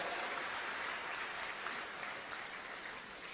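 A crowd at a government event in Betul, Madhya Pradesh, applauds to welcome Narendra Singh Tomar, producing a steady, dense wash of clapping that runs throughout without any voices.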